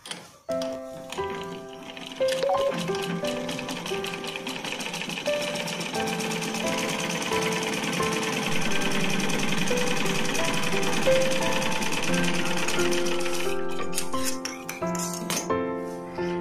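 A sewing machine stitches a blouse in a rapid, continuous mechanical chatter that runs for most of the stretch, with brief pauses and restarts near the start and end.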